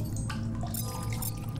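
Water filling a bottle in The Solus Project video game, a short burst of trickling, dripping liquid heard close and steady for under two seconds, with no talk.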